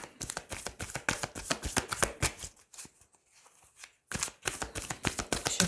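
Tarot cards are handled and laid down, giving dense, rapid papery flicks and slaps up close, a brief quieter pause, then another quick burst of card snaps.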